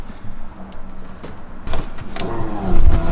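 A Nissan 350Z fuel pump, powered through a single wire during a from-scratch rewiring, whirs into life: a low mechanical hum with brief clicks and a louder rise toward the end.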